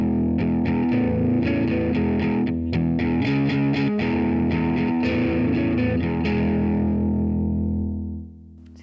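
Electric guitar played through a Line 6 Catalyst CX 100 amp at lower gain, loud, lightly distorted strummed chords and picked notes in a steady rhythm that ring out and fade at the end, with no talking.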